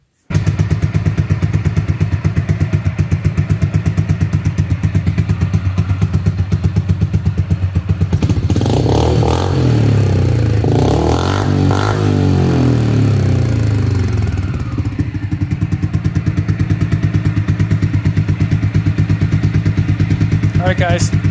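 A 2021 Can-Am DS 250 ATV fitted with a slip-on exhaust runs loud and close, a rapid single-cylinder putter rising into several revs near the middle before dropping back to idle, with a voice talking over it briefly.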